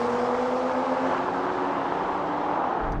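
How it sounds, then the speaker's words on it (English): Several cars in a rolling race from 50 mph in comfort mode, among them a BMW M340i, Audi S4, Mercedes-AMG E53 and Volvo S60 Polestar hybrid. Engines roar steadily and loudly under full acceleration with a continuous rising drone and no talk. "Now we're going to have a rolling race in comfort mode from 50 miles an hour."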